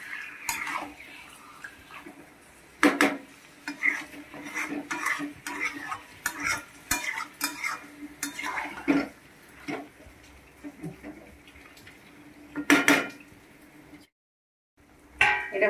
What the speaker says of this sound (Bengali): চিকেনটা ভালো করে এবার কষবো।